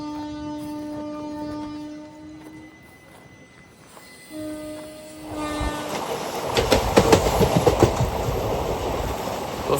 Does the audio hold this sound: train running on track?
yes